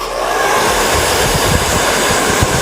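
A hair dryer blows steadily and loudly up close while drying product on a wig, a continuous broadband whooshing roar with slight fluctuations and no pauses.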